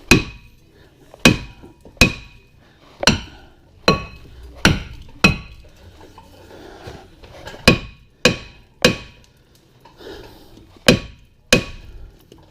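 Front brake assembly on a worn Toyota Corolla takes repeated heavy hammer strikes, about a dozen loud, sharp metallic knocks in uneven bursts with short ringing tails and pauses between groups.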